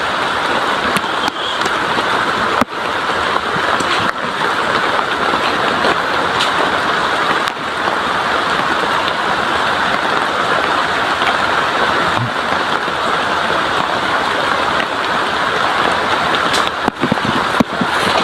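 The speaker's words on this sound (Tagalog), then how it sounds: "Lakas talaga ng ulan." Heavy rain pours steadily outdoors, a dense continuous broadband hiss with no pauses, loud and close throughout.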